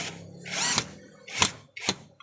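A power drill whirs up in a short run, then gives two brief bursts, close and loud, as it drives a bolt.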